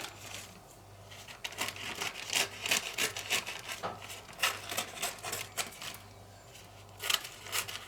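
Repeated crisp snipping and crinkling as scissors cut through baking paper around a paper kebab, close by, in irregular bursts with a faint low hum underneath.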